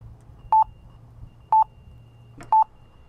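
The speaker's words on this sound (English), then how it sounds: "Many people in Lisbon find the new traffic lights that beep maddening." A pedestrian traffic light crossing signal in Lisbon gives three identical short electronic beeps at one-second intervals over faint low background hum.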